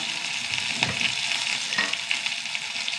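Ingredients sautéing in a pan, a steady close sizzle with a few soft scraping stirs over about three seconds.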